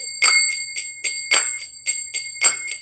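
A small bell rings clearly in a quick irregular series of about eight bright metallic strikes, each with a ringing tail, close and alone with no talk.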